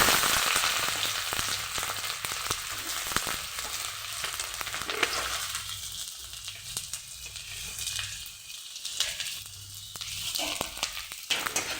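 Onions hiss loudly in hot oil in a kadai with two dried red chillies. A dense, continuous sizzle eases slightly partway through, with faint stirring taps.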